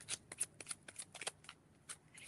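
Tarot cards being shuffled by hand at a tarot party, a series of quick crisp riffling bursts close up, irregular in rhythm, with no talk over them.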